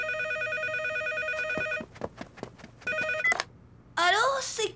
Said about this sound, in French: Si ça se trouve, le téléphone va sonner